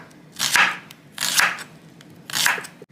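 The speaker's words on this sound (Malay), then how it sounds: "Bawang ni kita iris nipis-nipis lah." A knife slicing onion thinly on a board, three distinct crisp cutting strokes at roughly even intervals, close and clear with no talk.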